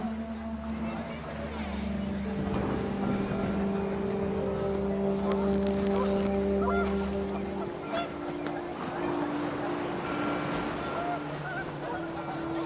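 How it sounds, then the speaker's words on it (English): Panicked geese honk over a steady roar of wind in What Remains of Edith Finch, the honks layered and sustained before fading, with a voice speaking over the scene. "The wind picked up, and panicked geese appeared and quickly went."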